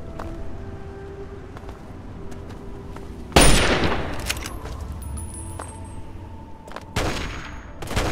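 Gunfire in Fallout 3, a sudden loud burst of shots followed by a decaying tail and scattered further reports, with a second sharp burst near the end over quiet game ambience.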